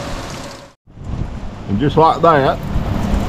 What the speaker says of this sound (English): We're getting a heavy rain. A lot of good rain.